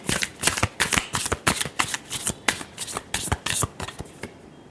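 Tarot cards are shuffled by hand in a quick run of crisp riffling bursts, about a dozen rhythmic flutters close to the mic, with no talk.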